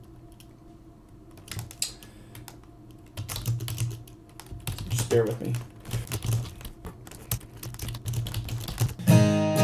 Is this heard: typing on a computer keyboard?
yes